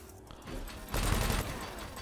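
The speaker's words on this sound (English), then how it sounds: "My cannon's working now." Spaceship cannon fire in Elite: Dangerous, a short burst of booming, rattling shots, fairly faint and compact, with a heavier thump in the middle.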